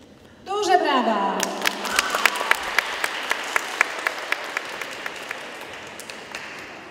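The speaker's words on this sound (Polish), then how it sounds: "Duże brawa!" An audience at a school carol contest in Poland breaks into loud, sustained applause with sharp individual claps, following a spoken announcement.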